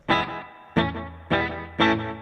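Electric guitar run through an overdrive pedal, with a slapback delay in the amp's effects loop, plays four strong picked chords, each decaying before the next in a steady rhythm, with no talking.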